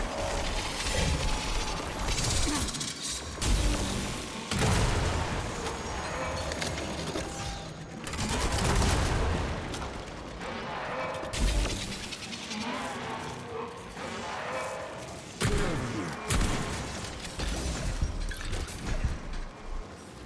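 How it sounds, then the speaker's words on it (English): A rocket launcher fires repeatedly in the Atomic Heart game, making dense, loud mechanical clanks and blasts in bursts every few seconds, layered over continuous busy game noise. "This rocket launcher is a bit weak."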